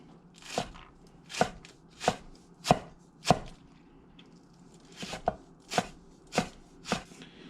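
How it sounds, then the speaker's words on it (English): A knife chops green onions on a cutting board in crisp, evenly spaced strokes, about a dozen sharp close taps with a short pause midway, with no talking. "I'm gonna do 1 rough cut to get this started"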